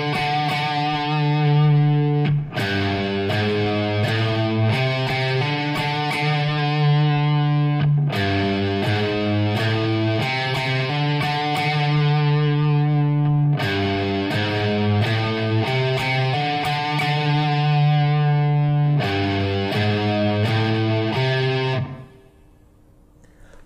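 Heavy distorted electric guitar riff, played loud with hard picking; thick sustained chords and repeating riff phrases cycle several times before ringing out at the end.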